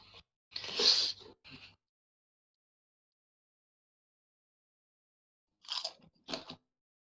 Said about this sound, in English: Are you eating chips? Lays.